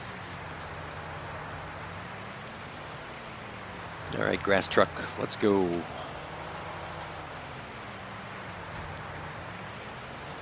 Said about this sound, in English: because it is raining and rain will mess up my grass